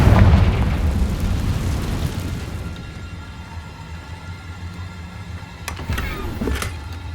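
A Confringo blast spell in Hogwarts Legacy goes off as a loud, close burst, its roar fading into a low rumbling tail with a few faint sharp crackles later on.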